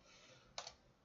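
A single brief burst of keystrokes on a computer keyboard, close and fairly quiet, typed during a Photoshop CS6 software download, standing out against a soft background hiss.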